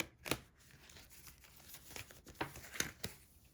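Quiet, crisp tarot card shuffling with several soft riffling snaps and light papery flicks, no speech.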